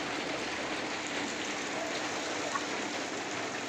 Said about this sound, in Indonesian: Ini hujan dari semalaman sampai sudah jam 10 pagi ini belum berhenti